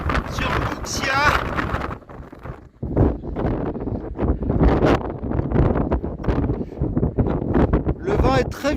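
Strong wind gusting across an exposed mountain viewpoint on the Camino francés (GR65), buffeting the microphone with loud, roaring bursts that rise and fall close up, almost without pause.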